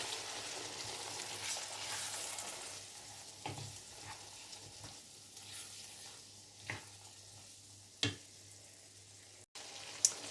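Chickpeas and chorizo with a little added water are stirred in a pan over a low, soft sizzle, with occasional scrapes and knocks of the spoon against the pan; quiet overall.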